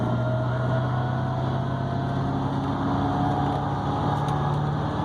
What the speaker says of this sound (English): You can hear the gearbox. You can hear the transmission in back. You can hear the engine.